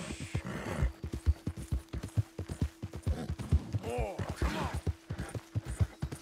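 A horse in the Red Dead video game trots with a steady, close clip-clop of hooves and gives a short whinny midway through.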